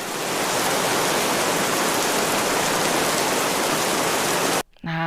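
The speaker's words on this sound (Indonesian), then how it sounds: "Suara hujan" Steady rain falls, a dense continuous hiss of drops played loud and alone for several seconds before cutting off abruptly near the end.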